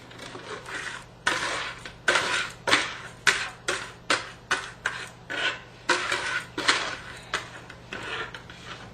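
Bonelos donut dough of butter, milk, oil and sugar being stirred in a bowl, giving a close, steady run of clinking, scraping strokes in an even rhythm with no voices.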